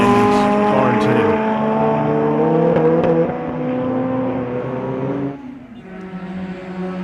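Race cars drone past at a racing festival, a loud, sustained engine roar with shifting pitch that drops away near the end as the cars recede, with a commentator's voice over it.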